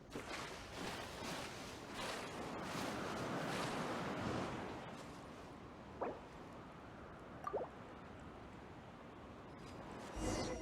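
Soft wind rushes and swells steadily in Genshin Impact, with a few faint drip-like ticks near the end and no speech.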